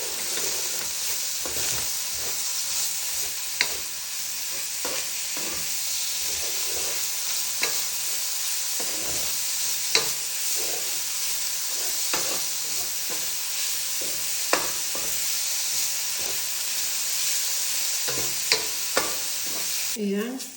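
Spices being stirred into a frying mixture in a pan give a steady, close sizzle broken by repeated scraping strokes of the spoon across the pan, with no talking.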